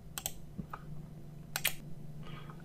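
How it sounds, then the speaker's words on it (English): A few crisp computer keyboard key presses, quiet and close, come in two short clusters over a steady low hum. "I'm going to press F3 on my keyboard"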